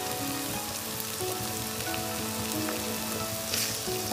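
Two beaten eggs hit hot oil in a pan for hotel-style egg sevai, giving a steady, close, even sizzle that carries without a break for a few seconds.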